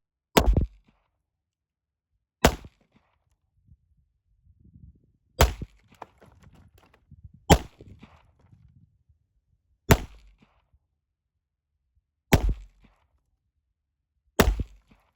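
A Daniel Defense H9 pistol fires seven single shots at a range target about 25 yards away. Each crack is sharp and loud, spaced a couple of seconds apart, with faint handling noise between shots.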